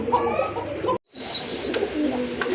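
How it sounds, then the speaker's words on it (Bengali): Shadel golla pigeons coo at a busy pigeon market, with soft, close throaty coos and a sharp break partway through before the cooing resumes over low crowd murmur. "দেখার মতো অনেক বড় সাইজের এক জোড়া কবুতর"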